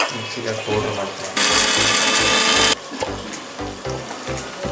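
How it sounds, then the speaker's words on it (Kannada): Mixer grinder whirring as it grinds spices to powder for paya soup, one loud roaring burst of about a second and a half standing out between stretches of someone talking. "ಮಿಕ್ಸಿಗೆ ಪೌಡ್ರ್ ಮಾಡ್ತೀನಿ."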